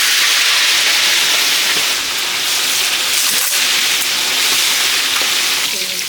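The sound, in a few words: koi fish frying in oil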